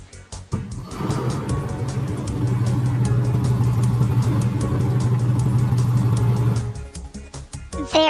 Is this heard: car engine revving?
yes